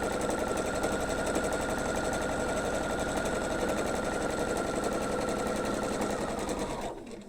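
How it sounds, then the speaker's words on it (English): A sewing machine stitches quilt blocks in a continuous chain, a close, steady rapid whirring hum that runs unbroken for several seconds before slowing and stopping at the end. "So I'm going to sew one more"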